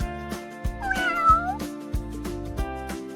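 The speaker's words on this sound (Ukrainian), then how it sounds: "Кошенята говорить няу-няу-няу-няу." Cartoon kittens meow in a children's farm-animal cartoon: a couple of short, clear meows rise and fall over bouncy background music with a steady beat.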